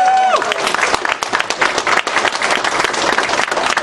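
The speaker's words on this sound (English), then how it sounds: "give him an extra round of applause" Loud, steady applause from a crowd at an opening ceremony, sustained clapping throughout with a brief tone at the start.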